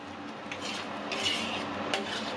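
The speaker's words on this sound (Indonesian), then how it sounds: "Aduk." A spoon scrapes and clinks against a cooking pot as seasoning paste and boiling water are stirred together for grilled chicken marinade, a few soft metallic knocks over a low simmering hiss.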